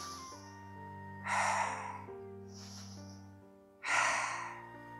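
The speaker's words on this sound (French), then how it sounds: "Et là, vous inspirez par le nez, vous soufflez par la bouche." Breathing exercise: two strong breathy exhales, each preceded by a softer intake, alone over a steady low background tone.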